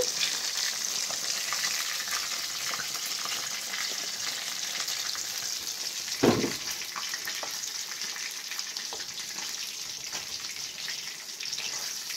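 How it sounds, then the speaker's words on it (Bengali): Continuous crackling sizzle of rohu fish pieces frying in hot oil, close up, with a brief clatter midway as the pieces are stirred. "এই মাছগুলো আমি লাল লাল করে ভেজে নিয়েছি, তুলে নিচ্ছি"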